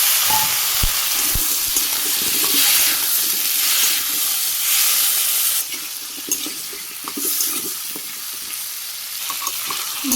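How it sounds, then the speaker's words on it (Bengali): Spices and sweet pumpkin (chukunda) sautéed with turmeric, chili powder and salt in a pan for a Bangladeshi fish curry, sizzling and frying steadily with stirring scrapes and clinks throughout, close and loud with no talk. "চুকুন্দাগুলো আমি সুন্দরভাবে কষিয়ে নিই হ্যাঁ, লাল লাল করে সুন্দর করে ভাজি করে নিচ্ছি"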